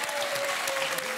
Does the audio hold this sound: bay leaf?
no